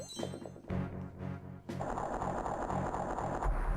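Door opening in the Nintendo DS game Zelda: Phantom Hourglass, a mechanical grinding and clunking sequence with rattling, ratchet-like texture building into a sustained rumbling slide, no speech.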